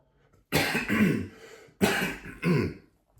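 Two harsh, throaty coughs from a person who has just smoked a dab, each a loud broadband burst with a short rasping tail, close to the mic with a brief pause between them.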